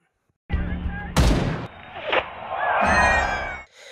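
Gunfire from a yakuza sniper film, loud booming shots and sharp cracks packed into a few seconds, with a dense burst of noise and a ringing, swelling aftermath that cuts off abruptly.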